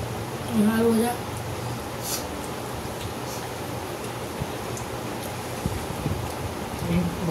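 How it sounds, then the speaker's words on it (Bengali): Steady rain falls on a monsoon day, a soft continuous hiss in the background throughout with occasional voices over it. "বর্ষার দিনে বৃষ্টি হচ্ছে"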